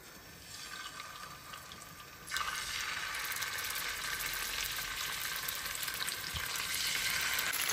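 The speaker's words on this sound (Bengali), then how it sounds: "এক এক করে ছেড়ে দেবো মাছগুলো" Fish pieces sizzling in a hot frying pan, with a steady crackling fry that suddenly grows louder and fuller partway through as more fish goes into the oil, then continues evenly, close and without talk.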